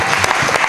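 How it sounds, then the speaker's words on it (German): A church congregation claps for Jesus Christ, a dense, loud and continuous burst of applause from a crowd filling the room. "Können wir Jesus Christus klatschen"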